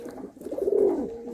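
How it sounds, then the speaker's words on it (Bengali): A pigeon from a pair of Andhra and Chennai pigeons gives a single soft, throaty coo, rising and falling over about a second, close by and alone. "দেখো মাদিটা আছে চেন্নাই বিটের পায়রা, নটটা আছে আন্ধ্রা পায়রা"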